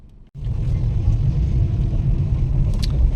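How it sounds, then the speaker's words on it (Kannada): A car with an automatic transmission drives along a road, its steady low engine and road rumble filling the cabin continuously after a brief quiet start, close and fairly loud. "ಆಟೋಮೆಟಿಕ್ ಗಾಡಿ."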